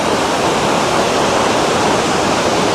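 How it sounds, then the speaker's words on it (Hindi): A Himalayan mountain river rushes over rocks below a cave, a loud, dense and constant roar of churning water filling the scene with no voices. "नदी की आवाज़, नदी का संगीत, नदी का कलरव आपको साफ सुनाई दे रहा होगा।"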